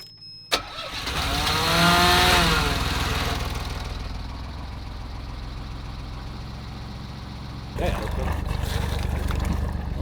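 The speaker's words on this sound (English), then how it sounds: "We're gonna try and turn on the engine and see if everything runs now." An inboard engine on a 34ft sailboat moored at a dock in Denmark cranks and catches, then settles into a steady idling rumble, with a second surge near the end and people talking faintly.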